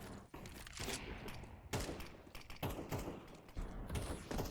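Gunfire in Counter-Strike 2 on the Mirage map rattles in dense, close bursts of rapid shots with thuds, continuous through the whole stretch.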